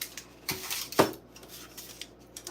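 Metal baking pans clank and scrape as they are set down and moved on a kitchen counter, with a few sharp knocks and lighter rattles and no one talking.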